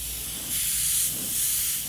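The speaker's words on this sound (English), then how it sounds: "Sprays extremely smooth. So this is spraying at a further distance." A GSI Creos Mr. Hobby PS-770 airbrush sprays paint onto paper, giving a smooth steady airy hiss that swells slightly twice during short passes, close and clear with no talking.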